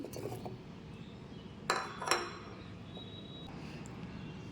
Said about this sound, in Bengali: এই যে এবার আমি কমলা লেবুগুলো দিয়ে দিচ্ছি